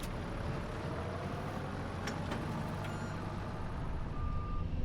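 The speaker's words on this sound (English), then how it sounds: "I do love the fact that this tractor's got reverse beeping" A tractor in the Farming Simulator video game sounds a reverse alarm as a steady high beep over a constant low diesel rumble, with a clearer tone toward the end.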